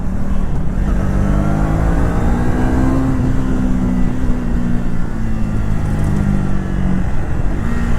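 Triumph Thruxton 400 motorcycle accelerating in second gear on a city ride, a loud close engine note climbing steadily in pitch with wind rush, no talk.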